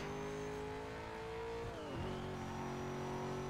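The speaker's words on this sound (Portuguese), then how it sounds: "Só aquecendo o pneu." A car in Need for Speed Most Wanted revs its engine to warm its tyres, a steady droning roar whose pitch dips sharply then settles, close and alone.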